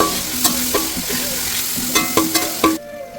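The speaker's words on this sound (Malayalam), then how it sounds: "അങ്ങനെ ഉള്ളി നല്ലോണം വാടുന്നത് വരെ ഇങ്ങനെ ഇളക്കി കൊടുത്തുകൊണ്ടേ ഇരിക്കണം കേട്ടോ." Onions stirred and sautéed in a pan for biryani semiya, a steady sizzle broken by sharp clinks and scrapes of a spoon against the pan, close and fairly loud, ending abruptly.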